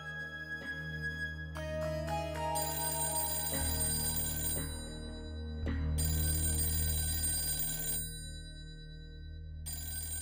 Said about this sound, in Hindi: काऊ का फोन बज रहा है